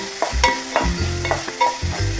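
Masala being sautéed in a pan for a beef dish, a spoon scraping and stirring in quick repeated strokes over a low, steady sizzle, close and fairly loud.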